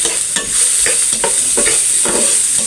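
Onion being stirred and frying in a hot pan for pork kare kare, with steady sizzling under repeated scraping strokes of a spatula, close and fairly loud throughout.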